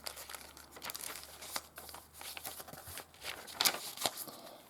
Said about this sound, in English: I've just made a little paper bag using Glad Bake